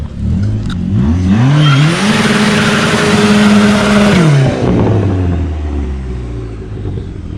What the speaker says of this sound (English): He said he'll do a little burnout for YouTube